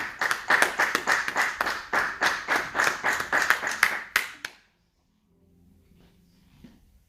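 A church congregation applauds together in a steady burst of clapping that stops abruptly, leaving near silence with faint room noise afterward.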